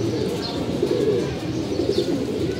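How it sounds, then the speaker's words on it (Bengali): Pigeons coo in a loft where birds are pairing, a steady low murmur of overlapping coos close by, with faint higher chirps and no clear speech. "এই যে একটা কবুতর"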